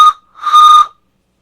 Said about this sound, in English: I turned a whistle. It's a piece of walnut.